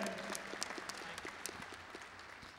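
Graduation ceremony audience applauding in a large hall, a brief burst of scattered clapping that starts fairly full and thins slightly toward the end, with distinct individual claps audible.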